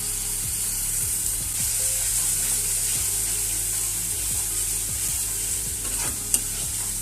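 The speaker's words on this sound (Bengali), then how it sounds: "মশলাটাকে আমাকে ভালো করে কষিয়ে নিতে হবে।" Soaked spice paste sizzles steadily in a hot pan for a duck egg curry, with a spatula scraping and stirring at a regular rhythm close by.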